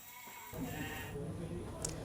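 Sacrificial sheep, decorated for an Islamic festival at a boarding school in Sukabumi, bleat in a crowded outdoor scene, with loud overlapping calls rising over steady background noise after a brief quiet opening.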